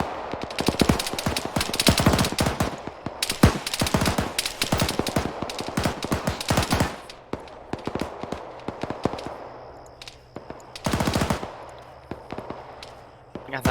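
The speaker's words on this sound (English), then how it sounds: "Got that auto rifleman firing at him as well." Automatic rifle fire from an auto rifleman in Arma 3, rapid sustained bursts of loud gunshots with short pauses between strings, then a final burst after a quieter stretch.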